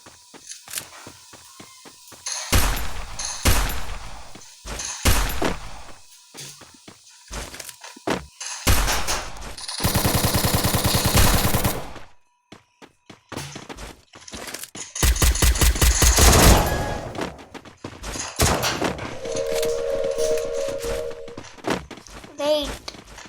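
A Thompson gun fires in the video game Free Fire, sending out loud rapid bursts of automatic gunfire between sharp single shots and clicks, while a player talks over the action.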